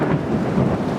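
A loud, dense rumble of thunder from a thunderstorm over Kuala Lumpur near KL Tower rolls on without a break, with rain mixed in and no voices.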